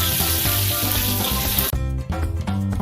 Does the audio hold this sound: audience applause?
no